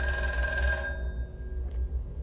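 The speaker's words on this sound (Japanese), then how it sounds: "電話、 取るよ、" An old-style telephone bell rings loudly in the VRChat horror world Doll House, then stops abruptly, leaving a quieter eerie background.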